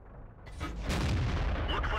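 A Panther tank's main gun fires at an enemy tank in a tank battle game, a heavy boom at mid-clip that rolls on in a sustained low rumble.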